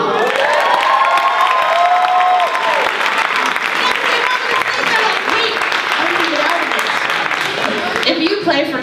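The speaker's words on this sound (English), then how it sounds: "big round of applause for Nebby" An audience at a solo night singing event breaks into loud sustained applause with cheers and whoops, clapping filling the room while a voice talks over it.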